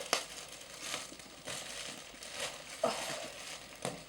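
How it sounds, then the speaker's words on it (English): Plastic crinkling in short bursts, several crackly rustles spaced about a second apart, close and fairly quiet with no talking. "Plastic bags."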